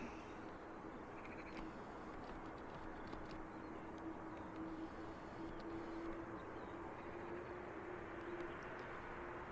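An Airbus A330 airliner taxies at Manchester Airport, a steady distant jet engine drone with a sustained whining tone, heard on its own without talk.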